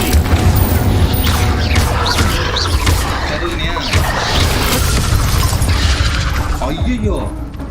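A fire spell cast in Hogwarts Legacy bursts out as a loud, dense rush of booming, crackling flame with sharp shattering hits, sustained for several seconds with voices mixed in.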